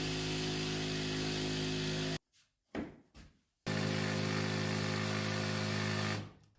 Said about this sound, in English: I am now ready to take the jigsaw and cut it out